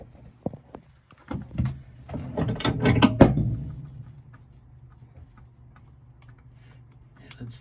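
A 7/8 socket on a wrench loosens the transmission drain plug of a 2007 Cruisers Yachts 460 Express, making a quiet, close burst of rapid metallic clicks and rattles that fades to near silence.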